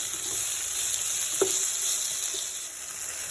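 Onions and colored chilli sizzling steadily in a frying pan for a baby corn Manchurian, a constant bright hiss with a brief clink of a utensil midway and no voices.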